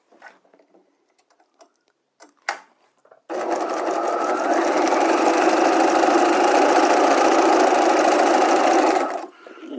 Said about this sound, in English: now I'm going to go ahead and stay stitch the top of the pocket at 1/4 inch